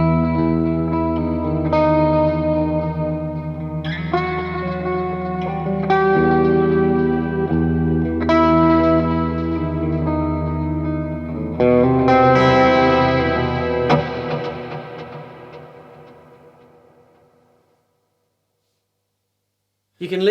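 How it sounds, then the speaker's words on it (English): Layered sustained tones from an effects unit run through stereo delay and stereo reverb, chords stacking and ringing out with echoing repeats, then decaying into a long reverb tail and near silence at the end. "So stereo delay, stereo reverb."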